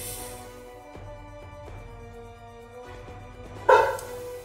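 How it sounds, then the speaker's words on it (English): A dog barks once near the end, sharp and fairly close, over a quiet background with faint tonal hum and music. "Sounds like a dog."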